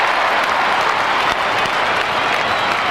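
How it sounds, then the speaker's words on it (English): Stadium crowd roaring and applauding a goal at a 1996 AFL match between Collingwood and Melbourne, a dense, sustained wash of cheering and clapping throughout. "Oh, the crowd's very happy behind the goals, because I think you'll find that's a goal."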